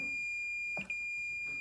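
A continuity tester held on the limit switch of an Igloo ice maker gives a steady, close, piercing high beep that runs unbroken, with a brief faint bump of handling noise partway through.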